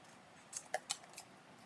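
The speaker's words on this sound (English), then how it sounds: "That's my quick and dirty fussy cutting." Scissors make a quick run of three or four crisp snips while fussy cutting around a paper shape, close and quiet with no voices.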